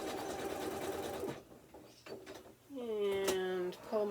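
A sewing machine stitches a clothesline bowl in short bursts, running, pausing, then whirring again as it backstitches, with some faint handling clicks between runs.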